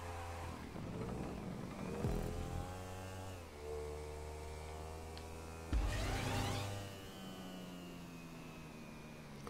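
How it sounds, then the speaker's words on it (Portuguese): A motorcycle engine in the GTA racing game revs up and down in several surges, with shifting pitch as it accelerates; moderately loud, with no talk. "Agora eu tô de moto."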